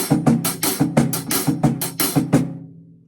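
A drum kit plays a tight, repeating triplet groove of inverted double strokes with accented hits, loud and close, then rings out at the end.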